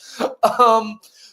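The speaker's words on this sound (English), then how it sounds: "Sorry, I've been coughing all night." A person clears the throat and coughs up close, a couple of short rough bursts in quick succession, fairly loud and with no other sound around it.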